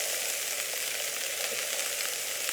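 Diced onion frying in a pan: a steady, even sizzle of hot oil throughout, close and moderately quiet, with no talk.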